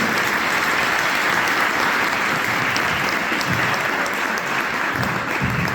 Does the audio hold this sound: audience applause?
yes